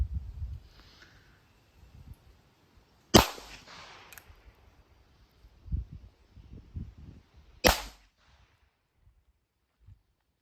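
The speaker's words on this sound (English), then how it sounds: "Here's my first shot from 8 yards" Two sharp, loud cracks from a North American Arms .22 Magnum mini revolver fired at an outdoor range, several seconds apart, each with a short ringing tail, with quiet handling noises between.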